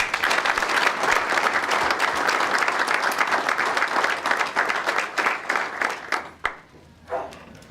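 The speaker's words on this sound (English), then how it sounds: "So please give them a large round of applause." Sustained applause from a large audience, dense and steady for several seconds before thinning out into a few scattered final claps.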